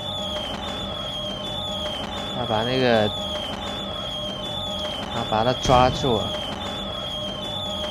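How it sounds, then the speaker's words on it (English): Fireworks whistling and popping, with two clusters of wavering, rising and falling whistles and bursts over a constant background hum, while people talk throughout. "the pretty fireworks zoom is around everywhere"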